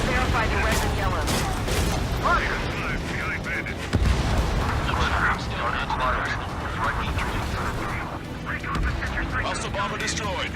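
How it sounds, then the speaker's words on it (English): Ground gunfire aimed at a jet in the combat flight game Ace Combat 7, rendered as a dense, continuous crackle of shots and booming bursts under constant engine roar, with radio voices talking throughout. "The guy on the ground is shooting at me"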